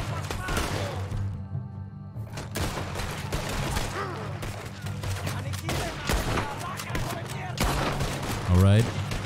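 Gunshots in the video game Red Dead Redemption 2, heard as bursts of rapid gunfire and thumps over a busy game soundscape, with a person talking throughout.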